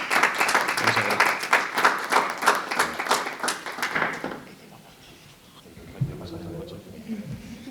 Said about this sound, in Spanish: primero dejad que os aplaudamos porque han sido dos magníficas exposiciones.